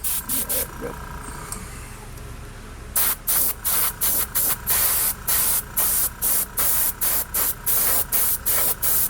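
A spray gun sprays paint onto a car in a long hiss, then in a rapid run of about fourteen short, evenly spaced bursts. The gun is close and loud.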